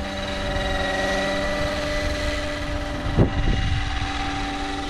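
A Roban Bell 407 RC model helicopter flies in gusty wind, its steady motor and rotor drone holding level throughout, with wind buffeting the microphone and one brief thump partway through.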